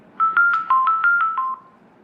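Cellphone ringtone chiming a quick run of bright electronic tones in a steady rhythm for about a second and a half, clear and close with no voices.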